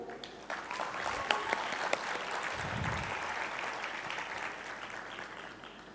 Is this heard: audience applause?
yes